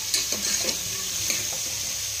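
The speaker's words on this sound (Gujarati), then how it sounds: "1 થી 2 મિનિટ માટે આપણે આમાં તેલમાં થોડાક એને સાતરી લેશું" Continuous sizzling of pav bhaji vegetables sautéing in hot oil, with a few soft scrapes and stirring clinks over it.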